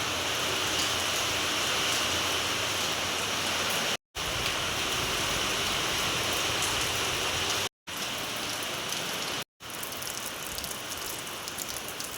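Steady rain from a cyclone pattering on a surface, a dense even hiss that continues throughout with a few brief dropouts.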